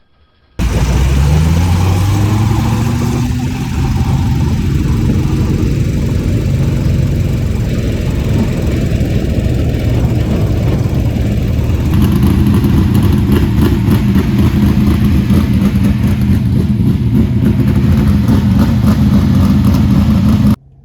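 A sprint car engine with mechanical fuel injection roaring very loudly and close up, running continuously for about twenty seconds with a steady, raspy drone, pitch rising and falling with throttle blips, cutting off abruptly at the end.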